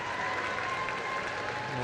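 A rugby league stadium crowd at a women's match applauds in a steady, moderately loud patter of clapping, with a faint voice running beneath.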